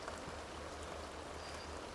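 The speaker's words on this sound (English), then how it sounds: "They're getting rained on." Steady rain falling in The Sims 2, a continuous hissing patter of drops with a low rhythmic hum beneath, heard alone at a constant moderate level.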